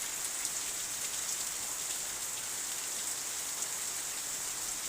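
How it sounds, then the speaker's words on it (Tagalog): Heavy rain pours down steadily as a dense, even hiss of drops on surfaces, constant and fairly close with no other sounds standing out. "pero ang ulan lumakas"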